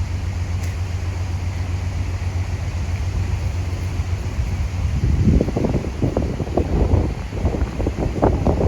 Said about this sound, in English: it's so windy today that one of the lock gates actually opened on its own